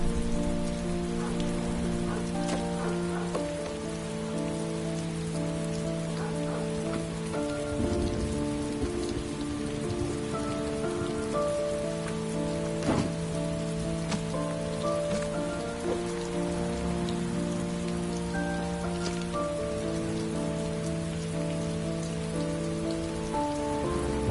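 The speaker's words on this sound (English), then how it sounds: "It's raining." Steady heavy rain falls in the video game Heavy Rain, a dense unbroken hiss of drops on surfaces that lasts throughout, with a low sustained tonal drone beneath and no voices.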